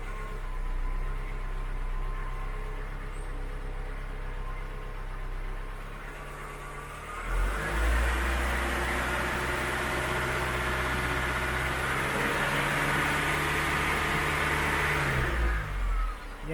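Mk3 Ford Cortina engine idling steadily, then revved hard for several seconds with a loud, rising roar before dropping back to idle, heard close up with no talk.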